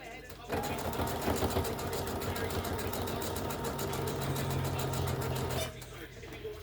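A sewing machine runs continuously for about five seconds while stitching a sink skirt, a fast steady mechanical whir with rapid needle ticks, starting and stopping abruptly, close and fairly loud.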